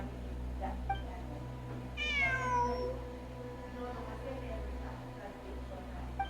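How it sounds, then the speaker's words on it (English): A single drawn-out cat meow in the video game Genshin Impact, heard mid-clip over a steady low ambient hum with faint background sounds. "I'm not hearing things. It really is a cat."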